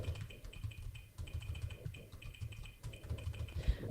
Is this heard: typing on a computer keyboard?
yes